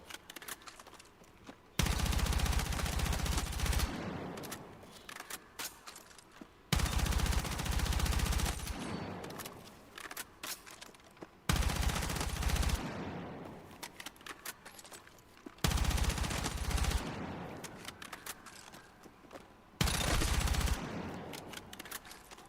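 Bursts of automatic gunfire in Battlefield 6, four long loud volleys of rapid shots separated by short quiet gaps, close and harsh with no speech.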